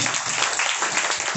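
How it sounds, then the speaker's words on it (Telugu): Church congregation at Sunday worship applauding together, a dense continuous roar of many hands clapping, loud and sustained. "కొట్టు చప్పట్లు ఇక్కడ"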